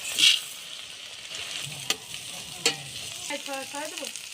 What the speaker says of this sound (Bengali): হয়ে গেছে ডালটা ভাজা